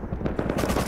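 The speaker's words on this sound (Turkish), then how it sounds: "Bana sıkıyor adam ya." Rapid automatic gunfire in the survival game Rust, with two MP5-armed players nearby, sounds as a dense, loud burst of close shots filling the whole clip.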